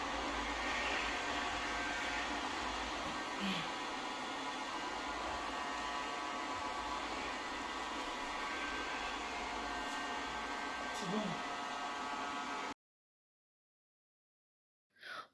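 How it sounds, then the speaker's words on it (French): A vacuum cleaner runs on a rug in a home during spring cleaning, a steady broadband whoosh holding level for about twelve seconds with small bumps, then cutting off abruptly into silence. "moi j'utilise l'autre aspirateur pour mieux aspirer mon tapis"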